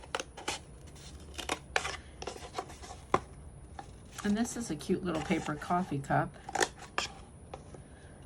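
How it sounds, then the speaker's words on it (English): Scissors snip slits into a small paper coffee cup with a series of crisp, quick cuts and a busy stretch of rustling snips, heard close up while someone talks. "cut some slips in my cup."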